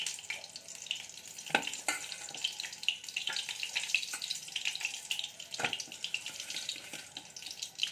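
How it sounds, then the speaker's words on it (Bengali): Eggs fry in hot oil in a wok with a steady crackling hiss, punctuated by a few sharp clatters of a utensil, close and fairly quiet, with no one speaking. "এখানে কড়াই বসিয়ে দিয়েছি, তেল দিয়েছি, তেলটা গরম হয়ে গেছে। এবার ডিমগুলো আমি খুব বেশি করে ভাজবো না, একটু হালকা ভেজে নেব।"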